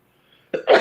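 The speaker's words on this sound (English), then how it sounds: "A sneeze." A single close sneeze, a faint intake followed by a sharp loud burst and a trailing release, heard alone in a quiet room during a casual football prediction show.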